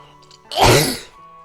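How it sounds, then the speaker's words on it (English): A single rough, breathy cough or throat-clearing burst of about half a second rises close over a quiet background of soft game music. "I hope you didn't have to hear too much of my horrible coughing."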